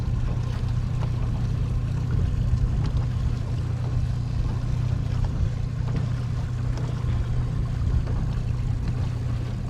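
A white Pathfinder outboard motorboat with a T-top drones steadily with a low engine rumble, mixed with wind and water wash, no voices.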